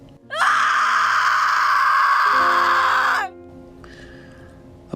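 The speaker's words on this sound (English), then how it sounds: "A blood-curdling scream pierces the silence, coming from the growth of trees just beyond the campfire." A blood-curdling scream rings out from trees beyond a campfire at night, one sustained shrill wail lasting about three seconds, loud and piercing, then breaking off into a faint eerie tone.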